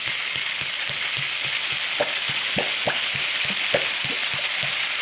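Mushrooms and pork belly frying in a pan, a dense, loud, continuous sizzle with a steady crackling hiss and a scatter of soft spatters and light stirring knocks beneath it.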